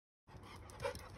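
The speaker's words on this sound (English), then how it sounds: "That's my dog, Bella." A pet dog pants quietly up close in a video game setting, a steady faint breathy rhythm starting after a brief silence.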